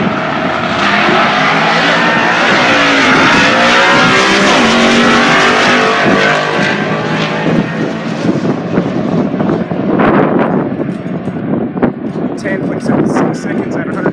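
Nissan GT-R and Ford Mustang go head to head in a midnight drag race at Rocky Mountain Speedway, a loud, continuous engine roar filling the whole stretch and easing slightly toward the end.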